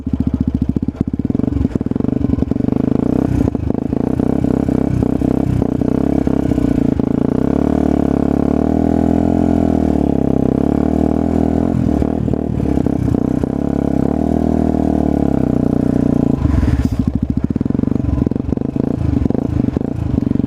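Aprilia RS4 motorcycle with a rider and passenger aboard, its engine droning steadily and loud throughout with slight rises and falls in revs, close up, and no talk over it.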